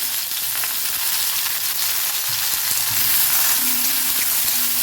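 Finely chopped small onions dropped into hot oil with cumin make a loud, steady, close sizzle and crackle that fills the whole stretch, with faint stirring underneath.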